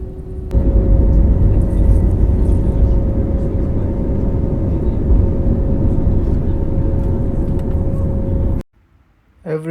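An airliner taking off at sunset, heard from inside the cabin as a loud, steady engine roar with a constant hum that holds for several seconds and then cuts off abruptly near the end.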